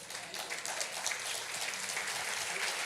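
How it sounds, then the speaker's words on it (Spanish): A church congregation claps loudly and densely in a continuous burst of applause, with little talk over it. "Denle fuerte ese aplauso al Señor."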